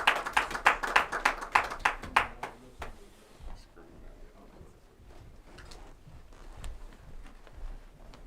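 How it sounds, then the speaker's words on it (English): A small audience claps at an indoor homeownership event: a short burst of rhythmic, fairly close hand clapping that quickly thins out into a few scattered claps over quiet room noise. "give another round of applause for Dorian"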